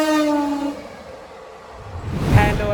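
The Kakinada–Vijayawada MEMU Express 17258 sounds a sustained horn at the start, which fades into the rumble of the running train before a rising, close rushing swell near the end.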